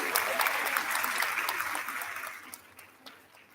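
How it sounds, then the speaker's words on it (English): Audience applause for performers at a university department retirement ceremony, a dense continuous clapping that gradually fades toward the end. "Can we have a huge round of applause, please?"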